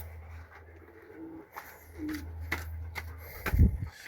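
Pigeons coo softly in a garden with a dovecote, low rolling calls under faint ambient noise, ending in a louder, closer burst near the finish.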